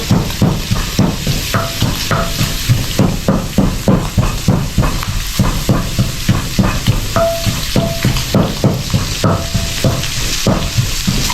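Food frying loudly in hot oil in a pan, with a steady sizzle throughout and rhythmic stirring scrapes on top, close and continuous, with no voices over it.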